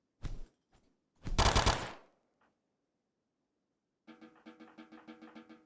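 Video game gunfire: a short burst of shots, then a longer, louder volley, and later a rapid, even run of automatic fire. Quiet gaps separate the bursts.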